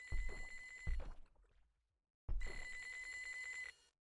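A payphone rings in the video game Normal Fishing with loud, trilling bell bursts: two quick rings, a pause, then a longer ring, heard alone.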